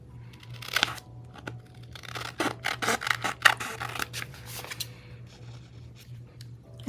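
Scissors trimming the edge of a paper envelope, close and fairly quiet, with a burst of quick rasping snips and cuts in the middle, followed by lighter scattered paper rustling and a low steady hum underneath.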